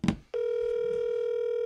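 A telephone receiver picks up with a click and a short rustle, then a steady, loud dial tone holds alone for over a second before dialing a call.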